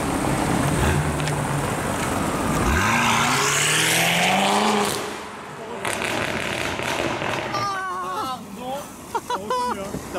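A BMW M5 engine roars past loudly on a Paris street, rising then fading away, with traffic noise around it and people talking afterward.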